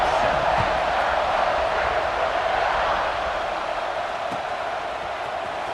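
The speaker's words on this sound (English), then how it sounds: "this crowd is buzzing after that last score" A stadium crowd at a college football game in EA Sports College Football 26 keeps up a steady, dense roar of buzzing noise after a score, with no clear break.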